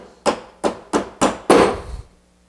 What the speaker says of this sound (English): Now I'm going to set the chisel right in the knife line.